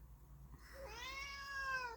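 A single drawn-out, rising then falling meow from a house cat, close and clear against a quiet room.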